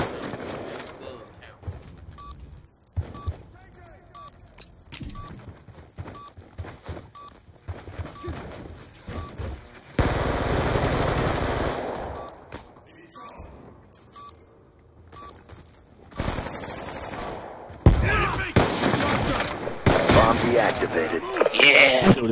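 Gunfire in Call of Duty Black Ops 2 search and destroy plays as repeated short shots and bursts, some rapid, with game sound effects throughout and a player's voice talking over it at times.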